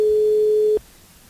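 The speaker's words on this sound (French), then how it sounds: "Corinne, décroche ton téléphone, Corinne." A single steady telephone line tone on a radio call-in show holds for under a second, then cuts off abruptly into faint background hiss.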